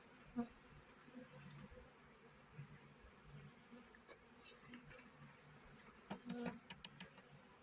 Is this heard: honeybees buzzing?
yes